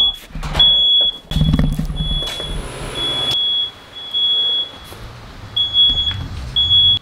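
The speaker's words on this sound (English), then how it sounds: "Smoke alarm going off." A smoke alarm sounds a shrill, continuous high beep that keeps cutting in and out over several seconds, loud and close, with low thumps and rumbling in the room around it.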